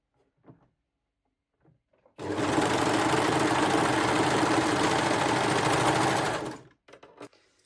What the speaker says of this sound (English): finish the longer edge of the crotch using a serger or a zigzag stitch to prevent fraying